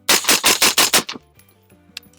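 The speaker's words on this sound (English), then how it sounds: "So when I'm shooting my rifle" Rapid string of about seven rifle shots fired with a red dot sight, loud and close, each crack ringing into the next before a quiet tail with faint rattles.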